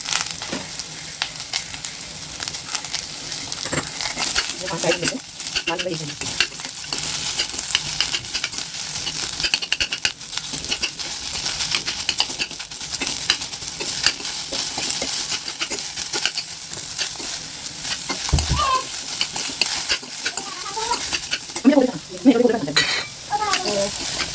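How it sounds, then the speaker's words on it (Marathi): Onions sizzle steadily in a hot pan while a utensil stirs and scrapes now and then, with a few clanks of cookware and faint speech in the background near the end. "आता बघा आपण इथे टाकणार आहेत कांदे मी पाटणचं आणि सारणचं दोन्ही एकत्रच घालून घेणार आहे"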